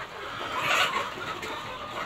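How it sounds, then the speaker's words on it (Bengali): Native chickens on a farm cluck softly while feeding, a faint murmur of clucks within a constant noisy outdoor hiss, with a slightly louder call near the middle. "দেখেন আপনারা দেখেন যে মুরগি কত সুন্দর করে খাচ্ছে"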